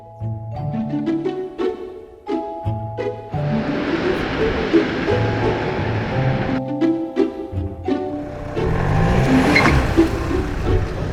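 A car drives along the road on a morning trip, its steady engine and road rumble continuous throughout, with voices and tonal sounds layered on top.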